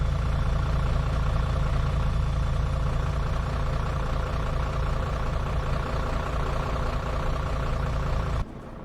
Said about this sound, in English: the AI engine sounds are tied to the player engine sounds